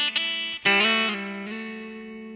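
Electric guitar lick from a song, played with a slide: a short sustained phrase of pitch-shifting notes with a clear glide near the start, ringing out alone with distortion and reverb.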